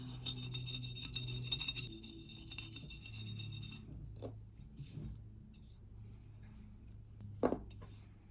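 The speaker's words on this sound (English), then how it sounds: "you're getting off all of that tackiness as well, that residue, as opposed to just taking off the label" A tool scrapes label residue off a glass jar with a close, raspy rhythmic rubbing for about four seconds. A few brief scratches and a light clink on the glass follow, all quiet with no voice.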